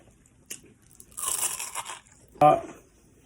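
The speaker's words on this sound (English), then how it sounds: "I'm chewing and talking, but y'all used to it." Crunchy bites of crispy fried food with tartar sauce, a couple of sharp close crunches against a quiet background, with someone talking in between.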